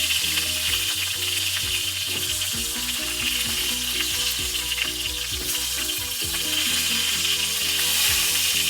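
Shrimp egg rolls fry in hot oil with a steady, dense sizzle and crackle that holds loud and close the whole time, with faint low hum underneath.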